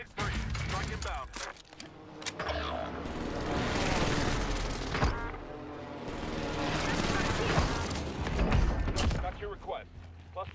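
Cluster airstrike explosions in Call of Duty: Warzone, a rolling series of booming blasts and crackling detonations, loud and sustained, with mechanical clatter and radio voices speaking over it.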